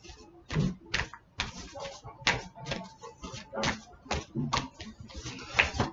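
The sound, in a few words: shuffling a deck of tarot cards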